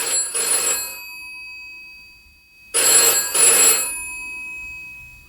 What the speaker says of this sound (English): that's actually the phone ringing in the office